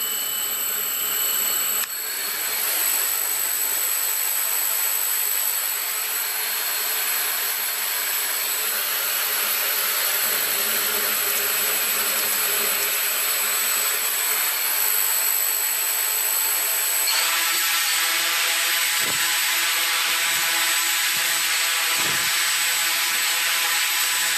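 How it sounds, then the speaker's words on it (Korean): Small drone motors and propellers whirring steadily during a tethered takeoff-power test, a loud continuous high-pitched whine with a shift in pitch partway through and a few bumps near the end. "드론이 이륙하는 지점의 파워를 찾아내는 실험이었습니다"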